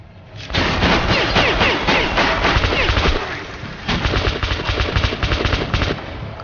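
Loud machine gun fire erupts in Metro Last Light, with rapid sustained bursts that pause briefly partway through and then resume with dense automatic shots and crashing effects.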